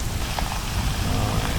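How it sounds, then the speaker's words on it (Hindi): Heavy rain mixed with hail pours down in a hailstorm on a mountain trek trail in Pakistan, a dense, loud, steady patter and drumming with no voices. "ये देखें बारिश कितनी तेज़ हो गई है, ओले भी गिरने शुरू हो गए हैं, हेल स्टॉर्म।"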